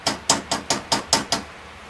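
A hammer tapping a part onto a Chevy 454 big-block cylinder head during an engine rebuild, seven sharp metallic taps at a steady quick rhythm, close and clear, with no talking.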